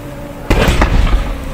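Burning vehicles wrecked in a road collision let off a sudden sharp blast followed by crackling pops and rumbling, loud and near with no talk over it.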